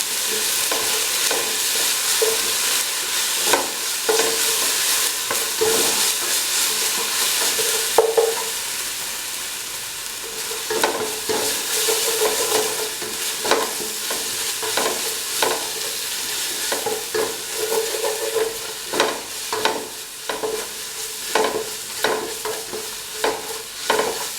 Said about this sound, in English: And mix together ingredients.